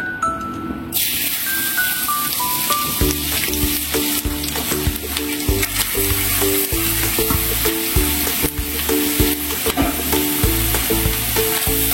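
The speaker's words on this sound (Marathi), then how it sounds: "हे आपल्याला आता मिक्स करायचं आहे चांगलं।" A modak filling mixture with ghee sizzles in a pan while a spoon stirs it, steady frying hiss with repeated scraping and clinking strokes, close and continuous.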